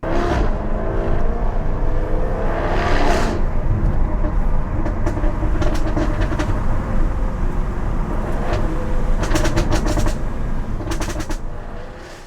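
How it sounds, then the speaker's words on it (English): A Jaguar F-Type with a 5.0 engine and active exhaust valves rumbles loudly and steadily at close range, its throaty drone broken by several sharp crackles and pops. "These have valves in them that open up with the active exhaust, let more exhaust gas out, bypass some baffles and silencers."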